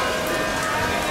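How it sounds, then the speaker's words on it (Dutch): Rain falling steadily on an outdoor Wednesday market in Woerden, a dense, even patter of drops on surfaces, close and constant throughout. "Het regent nat."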